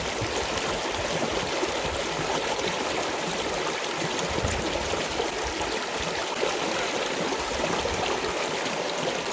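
Water pours and splashes steadily during an outdoor shower in an African village, a loud, continuous broadband rush close to the listener with no talk.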